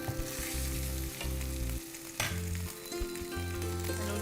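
Boiled noodles fry in a little oil for Korean rolls, making a loud, steady sizzle with bursts of stirring and a low constant hum underneath.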